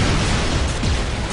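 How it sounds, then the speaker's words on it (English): Alien explosions in a video game, a continuous dense low rumbling blast texture filling the whole short moment, loud and steady with booming low swells. "Whoa! Alien explosions?"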